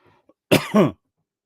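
A single close, loud cough from lingering bronchitis in two quick bursts, following brief quiet, then silence.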